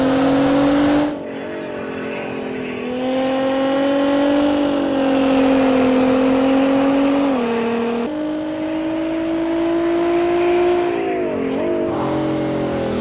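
Nissan GT-R Nismo drifting in the racing game Assetto Corsa: a steady, loud engine drone with sustained revving that rises and dips as the car slides, holding continuously for about thirteen seconds with a brief break near the start.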